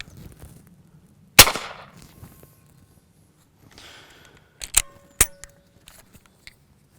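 Suppressed pistol shots through a Gemtech Lunar 9 suppressor: one sharp crack followed by a short tail, then two more quick cracks a few seconds later, with quiet handling noises between them.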